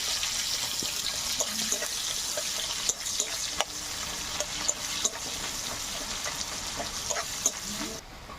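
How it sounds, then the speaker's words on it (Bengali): Chopped onions fry in oil in a pan with dried chilli and nigella seeds, a continuous close sizzle with occasional light clinks and pops, steady throughout with no voices. "দিয়ে একটু ভাজা ভাজা করে নেব"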